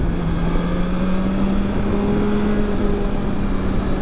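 Engine note from a 2020 BMW S1000XR motorcycle running its stock exhaust, a steady droning hum at moderate revs under wind and road noise, with a gently shifting pitch and no talking.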